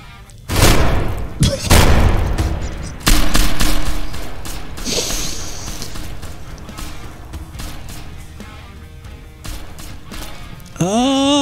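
In the People Playground game, a TNT blast hits with a heavy boom followed by rattling, crackling bursts and debris clatter that fade out, then a sharp metallic rise at the end.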